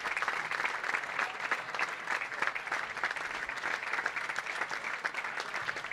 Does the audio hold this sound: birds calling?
no